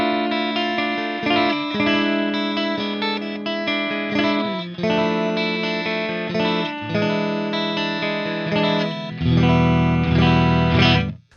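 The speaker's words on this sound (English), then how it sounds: "this is a guitar that has a lot of diversity in the tones that it can produce" Electric guitar played through built-in effects, sustained distorted chords with chorus and reverb, loud and continuous, shifting tone through several changes with a heavier low-end section near the end.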